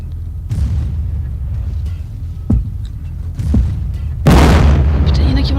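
Grenade explosions in Battlefield 1942 land as deep booms, a few separate heavy thuds with the biggest blast near the end, over a low rumble of battle noise.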